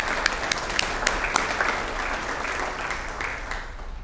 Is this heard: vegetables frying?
no